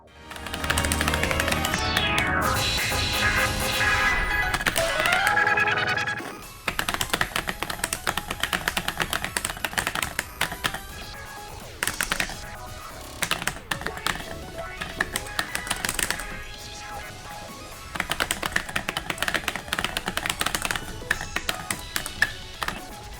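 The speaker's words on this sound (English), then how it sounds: "The controller sounds really nice." Rapid clicking and tapping of buttons on a gamo2 FAUCETWO Sound Voltex arcade-style controller, dense irregular presses close up, mixed with game music playing loudly throughout.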